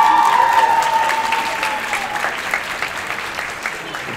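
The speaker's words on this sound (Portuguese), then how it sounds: "nós podemos aplaudir aqui durante 5, 10 minutos" An audience at a law school mock trial applauds, a dense burst of clapping that starts strong and gradually thins out over a few seconds.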